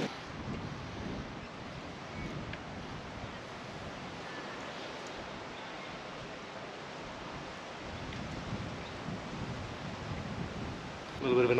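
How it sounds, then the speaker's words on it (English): Wind blows steadily on a stormy beach with surf, a broad continuous roar and rumble buffeting the microphone, moderately loud throughout and swelling at the very end. "Stormy and windy day ahead."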